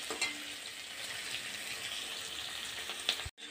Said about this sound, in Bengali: এবার লাল লাল করে পেঁয়াজটা ভেজে নেব।